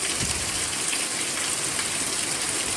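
Heavy sideways rain lashes down during a strong thunderstorm, a loud, dense hiss and roar of water that stays steady and close throughout, with no voices.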